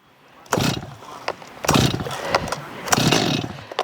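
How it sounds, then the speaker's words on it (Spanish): A Stihl chainsaw is pull-started on choke, giving four loud, close bursts of rasping engine and starter-cord noise about a second apart. The engine sputters each time but never keeps running, and no one talks. "La motosierra ya intentó medio prender, no le puedo seguir dando arranque porque se nos va a inundar."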